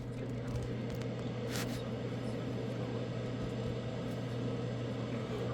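A steady low electrical hum from a microwave oven running, with a constant drone and faint hiss throughout, inside a Kia Soul car, with no talking.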